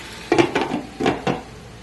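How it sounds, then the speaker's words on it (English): A lid settles onto a pan of mixed vegetable and tofu stir fry with eggplant, producing several close, distinct metallic clanks and rattles in quick succession, with no talking. "Lid on."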